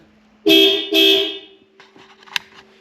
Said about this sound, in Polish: klaksony, podwójny klakson